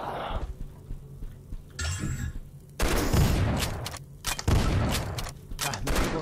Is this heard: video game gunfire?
yes